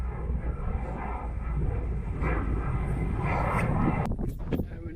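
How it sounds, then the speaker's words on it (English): Propeller airplane passing overhead during a hilltop walk on the Pennine Way, a steady low drone mixed with wind buffeting the microphone throughout, with a few handling knocks near the end. "don't know what airplane that is. It's got propellers rather than an engine."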